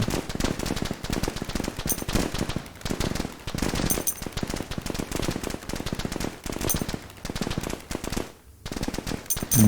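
Rapid bursts of AK rifle fire in the video game Army Commander, loud and close, with sustained automatic strings broken by brief pauses and a short gap near the end.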